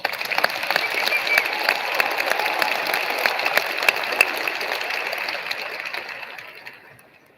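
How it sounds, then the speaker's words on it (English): An audience at an awards program applauds underclassmen award winners; steady, moderately distant clapping holds evenly, then tapers and fades out near the end. "Please give our underclassmen a round of applause."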